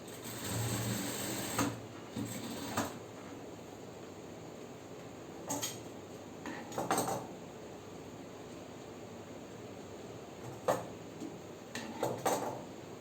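A sewing machine stitches fabric pieces together for a ruffle frock, a faint steady mechanical whir broken by several sharp clicks and handling knocks at irregular intervals, with no voices.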